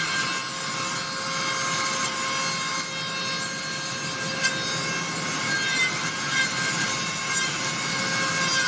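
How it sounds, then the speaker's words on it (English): A Dremel rotary tool whines steadily as it carves a wood spirit wizard held in a vise, a loud, high continuous tone with a gritty grinding texture that stays unbroken throughout. "I really don't like using the Dremel when I have something in the vise"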